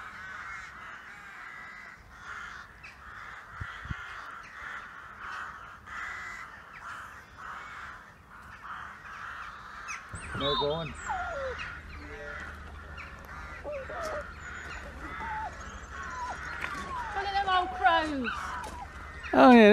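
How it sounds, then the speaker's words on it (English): Crows caw repeatedly in the open on a drive back from Fakenham, their harsh calls scattered across the scene over steady outdoor rumble, growing louder and more frequent toward the end, with a voice speaking briefly. "on the way back I tried to film some of the crows"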